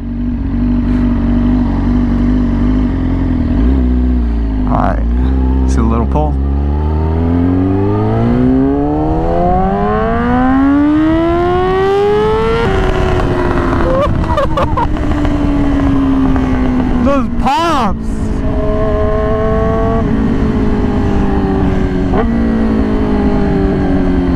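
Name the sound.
Yamaha R6 motorcycle with loud exhaust revving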